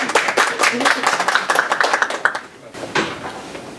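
A room of listeners claps to open an author lecture at a National Assembly book-club event, a dense burst of applause that tapers off, followed by a few scattered claps and a voice.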